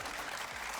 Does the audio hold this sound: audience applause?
yes